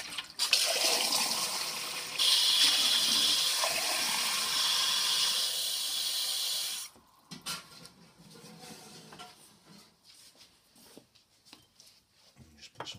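Fresh tap water runs loudly into a sink for about seven seconds, a steady rushing splash that stops abruptly, followed by quieter handling clatter and small knocks.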